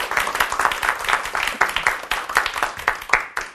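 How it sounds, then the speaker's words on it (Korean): An audience claps warmly to welcome a lecturer to a leadership seminar, a dense, close round of applause with sharp individual claps standing out throughout. "큰 박수 부탁드립니다."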